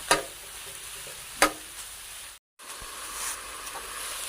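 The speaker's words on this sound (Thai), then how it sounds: "ตอนนี้เราต้องเริ่มคนแล้วค่ะ" Pork skin being stirred in a pan for cracklings gives a quiet sizzle with a few scraping stir strokes and a brief cut to silence partway through.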